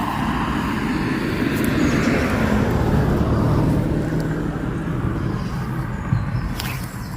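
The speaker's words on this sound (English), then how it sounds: "There's a car coming, Kev, so I have to wait a minute." A car approaches and passes on a road beside a coarse fishing spot. It swells into a loud, steady roadway rush that fills the whole stretch and fades only slightly near the end.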